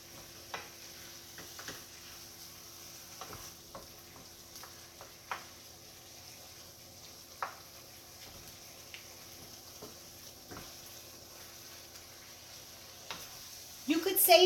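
Meat cooking in a pan as a filling for stuffed zucchini boats gives a faint, steady low sizzle, broken by scattered soft clicks and taps from stirring throughout.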